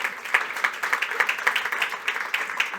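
A modest round of applause at a conference in Chile, with claps pattering fairly evenly throughout; the crowd sounds moderately near and no one speaks over it.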